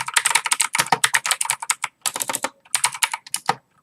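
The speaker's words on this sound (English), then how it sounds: "doing your coding by typing" Rapid typing on a computer keyboard while coding, bursts of crisp close key clicks with short pauses between runs.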